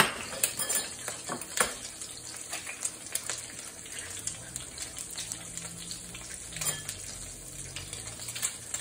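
One egg frying in butter in a pan, a continuous soft sizzle with light crackles and pops, faint clinks of utensils through the sizzle, no talking.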